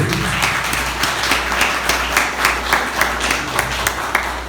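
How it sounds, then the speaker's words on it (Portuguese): Applause from an audience at a spiritist social gathering, steady clapping of a modest crowd sustained for several seconds at moderate volume, with no speech over it. "o Elber Boaventura, uma salva de palmas para ele."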